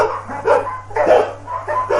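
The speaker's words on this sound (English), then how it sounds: "some dogs in the village spotted him and started barking loudly" Several village dogs bark loudly and repeatedly in a quick, uneven rhythm close by, with no talking over them.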